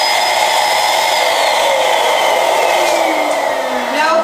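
A pump forces air into a balloon through a straw, a loud continuous rushing whoosh whose tone slowly glides downward as the balloon fills, with no voices.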